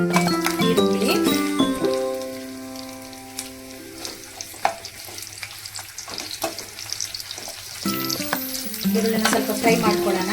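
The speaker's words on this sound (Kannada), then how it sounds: "ಈರುಳ್ಳಿನ ಸ್ವಲ್ಪ ಫ್ರೈ ಮಾಡ್ಕೊಳ್ಳೋಣ." Onions frying in hot oil with mustard seeds and curry leaves for an okra gravy, a moderate crackling sizzle under stirring, with tonal music playing over much of it.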